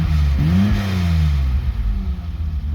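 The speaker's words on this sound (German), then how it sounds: "Blubbert auch schön ein bisschen, aber es ist auch ein echtes Blubbern und nicht digital wie bei den neuen Autos." A BMW E30 320i with 215,000 km on it revs up and settles, its engine note rising then falling into a loud, close, burbling idle.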